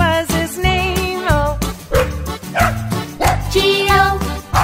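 A dog's bow-wow barks set into the nursery rhyme Bingo, a cheerful children's song, with repeated punchy bark-like hits among sung and instrumental notes, loud and rhythmic.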